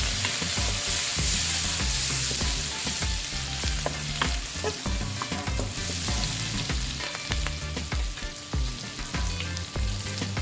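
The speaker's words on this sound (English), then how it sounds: "The dried prawns are going in now. Let's fry this for another half a minute." Steady, loud sizzling and crackling of dried prawns and garlic frying in hot oil, with occasional stirring scrapes, continuing without pause and no voices.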